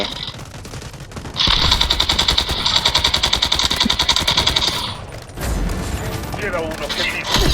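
Loud gunfire in the video game Delta Force Mobile rattles in a long rapid automatic burst, then trails into scattered shots, with voices talking over the action.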